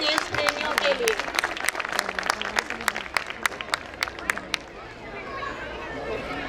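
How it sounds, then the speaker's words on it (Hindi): An audience claps for LKG children's performance at a school annual function: a burst of crisp individual claps over crowd murmur, with voices audible underneath, fading out after about five seconds. "तो एक बार दिल से तालियां हो जाएं इन LKG के नन्हे देश प्रेमियों के लिए"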